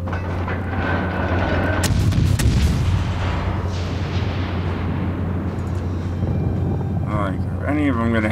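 Mortar fire in the naval battle game World of Warships Legends brings heavy, rumbling booms over a continuous dense roar of battle, with a voice briefly audible near the end.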